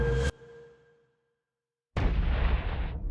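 A single sharp, loud gunshot in a hotel cuts off abruptly, followed by silence, then a burst of heavy rumbling noise that holds for about a second.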